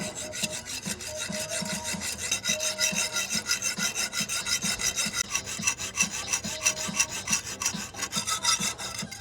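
A hand saw cuts back and forth on top of a wall, each rasping stroke repeating in a steady rhythm, close and loud, with no talking.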